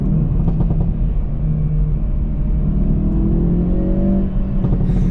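A Hyundai i30 N in N mode, 2022 DCT or manual, gives a loud, steady engine and exhaust drone that rises in a revving surge toward the end, close and continuous with no talk.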